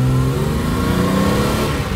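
A 1968 Mercedes 280SEL with a four-speed gearbox and lower-ratio rear end accelerates on the road, its engine loud and close with a steady rising drone and a slight dip in pitch as it shifts gears.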